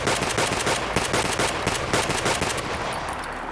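Rapid gunfire in the video game Escape From Tarkov: a loud, steady string of single shots fired in quick succession, close and unbroken, with no talk.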